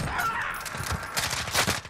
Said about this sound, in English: So you can see I'm able to tap fire this really fast.